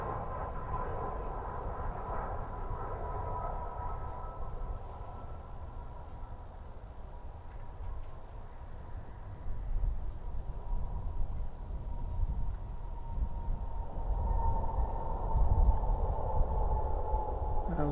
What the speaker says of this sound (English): One of the ever popular A319s in American's fleet.